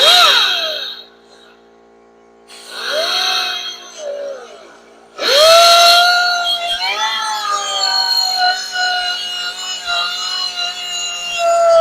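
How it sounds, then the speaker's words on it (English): Die grinder making light scoring passes on metal, a high, bright whining screech in several short bursts, the last one longer and wavering in pitch, close and loud with no talking. "take my die grinder and just make a couple of passes right here, nice light passes"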